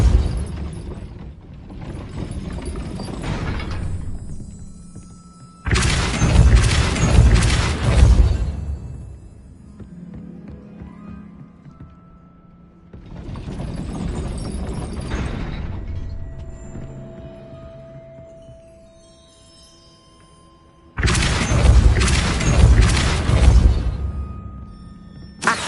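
A gate mechanism in Hogwarts Legacy grinds and ratchets in several long, loud bursts of clanking gears and creaking, broken by quieter gaps of low ambient hum.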